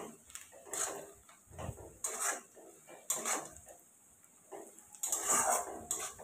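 Onions for a mutton and potato curry are stirred as they fry in a pot. A utensil scrapes and knocks against the metal in several separate bursts, with quieter gaps between them and a soft background hiss.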